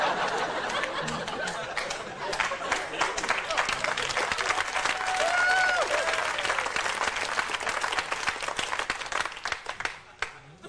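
Comedy club audience breaks into sustained applause, a dense near roar of clapping with scattered chuckles and crowd murmur, tapering off toward the end.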